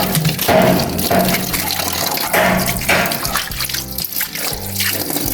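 Water runs from a tap into a container at a lot for sale, splashing and trickling loudly with a shifting pitch as the vessel fills, with faint voices underneath.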